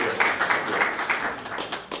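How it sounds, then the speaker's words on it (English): A small audience at a candidates' meeting claps briefly, with individual hand claps audible in a loose, uneven patter that stays close and moderately loud for a couple of seconds. "Give a round of applause."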